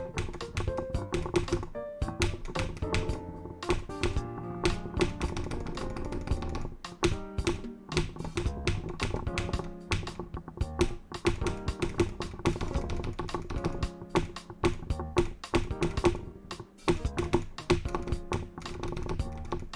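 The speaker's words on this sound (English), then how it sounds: "I'll try to click as normally as possible." Rapid keyboard typing and mouse clicking during computer gameplay, picked up by a FiFine AM8 microphone: dense, steady clacking keystrokes throughout with brief pauses, close and fairly loud.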